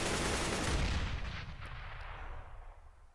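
Gunfire from Counter-Strike: Global Offensive during an ESL UK Premiership esports match: a loud, close burst of shots that rings out and slowly decays over a few seconds, with no talking.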